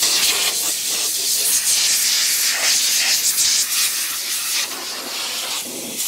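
Spray hisses inside the engine bay of a 1985 Pontiac Fiero GT in a series of close, loud bursts that rise and fall with brief pauses between them.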